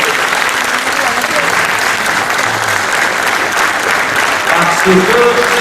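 A standing audience applauds Gilles Pargneaux at a tribute event held by a Oujda arts association, a loud continuous roar of clapping throughout, with a voice speaking briefly over it near the end.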